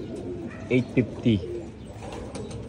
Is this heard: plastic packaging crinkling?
no